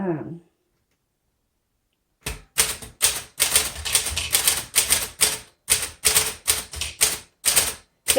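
Keys clacking on a 1938 Corona Sterling vintage typewriter after a brief voice and a pause, a run of crisp, close, loud strikes in uneven typing rhythm with short gaps between bursts.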